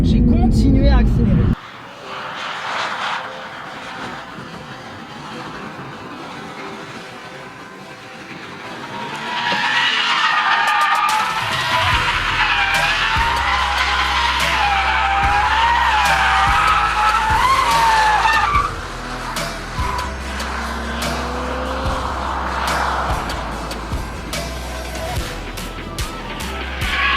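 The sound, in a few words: Toyota GR Supra drifting, engine revving and tires skidding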